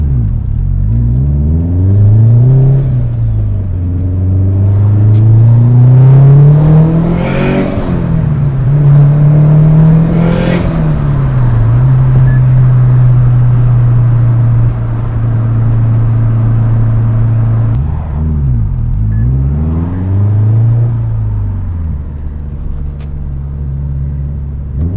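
A Subaru Forester driving on the road: a loud, steady engine hum and tire rumble from inside the car, rising and falling with several gear shifts and revs, no talking.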